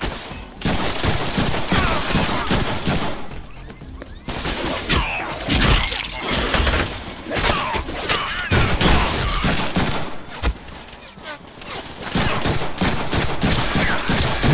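Dense, loud gunfire in the Deadpool video game: rapid bursts and volleys of shots with crashing impacts, nearly continuous for the whole stretch, with only brief lulls.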